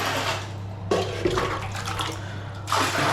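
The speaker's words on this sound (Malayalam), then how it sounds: "ആദ്യം എല്ലാം വെള്ളം വേണമെങ്കിൽ കോരിക്കളയുക." Water is scooped out of a toilet cistern while its siphon is being replaced: a few close splashing scoops and sloshes with brief gaps between, against a steady low hum.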